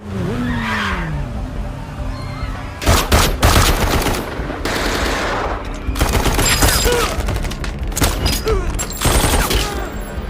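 Rapid bursts of gunfire crack through an action film scene, sharp volleys in clusters alongside tire squeals and vehicle noise, loud and close with short gaps between exchanges.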